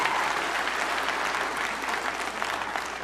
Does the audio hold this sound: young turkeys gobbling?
no